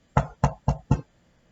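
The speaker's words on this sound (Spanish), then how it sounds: "en ese momento, entrada la noche, tocan la puerta" Four evenly spaced knocks on a door at night, close and fairly loud, each a short dull thud, then silence.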